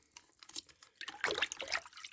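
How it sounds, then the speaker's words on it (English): Root juice squirted from a syringe into a container of water makes quick splashy squirts and trickling, bubbling liquid sounds that build in the middle, close and fairly quiet. "So we'll squirt that into the water."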